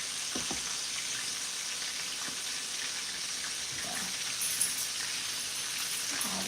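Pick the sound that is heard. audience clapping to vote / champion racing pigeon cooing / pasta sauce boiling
pasta sauce boiling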